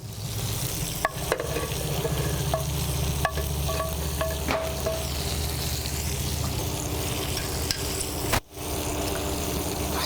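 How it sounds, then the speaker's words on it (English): Sautéed mushrooms tipped into a hot pan beside a finishing steak, giving a steady, close sizzle that runs unbroken for several seconds with a few faint clicks and no talking. "I'm going to come back and add our sauteed mushrooms"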